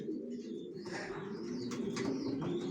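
Racer pigeon squabs cooing softly and steadily with some chirps and wing rustle, close by in a loft, no talk.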